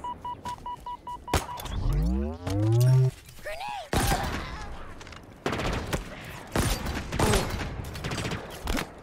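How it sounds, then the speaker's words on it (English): Halo Infinite combat: a heavy grenade blast with sweeping, rising tones, then rapid bursts of gunfire in loud, close, repeated volleys. "Grenade!"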